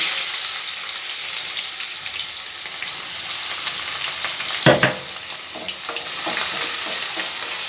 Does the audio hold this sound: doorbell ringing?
no